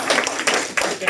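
An audience applauds a player from the Abbeville club named Quentin during the player presentation at the GP Longoni Next Gen tournament, a brief burst of dense, steady clapping.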